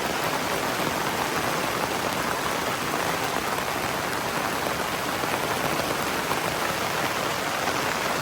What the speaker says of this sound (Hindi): खाना खाते खाते क्या जोरदार बारिश आ गई भाई।